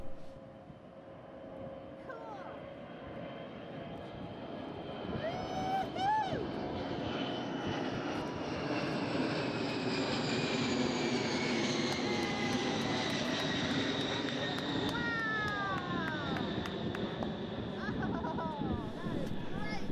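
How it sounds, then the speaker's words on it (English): A specially modified Boeing 747 carrying Space Shuttle Endeavour on its back flies over, a steady distant engine drone swelling and fading slowly, fairly faint, with a voice talking over it. "It's being carried by a 747 aircraft, specially modified so that it is able to hold it on its back."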